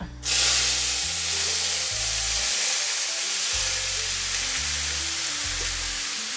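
A cabbage and carrot mixture for thoran hits a hot pan and bursts into loud, steady sizzling and frying hiss, close up and sustained, while a low hum shifts pitch underneath.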